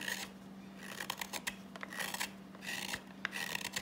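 A Morakniv 162 double-edge hook knife carves into wood, giving close, dry rasping scrapes in short bursts of strokes with brief pauses between them and a faint steady hum underneath.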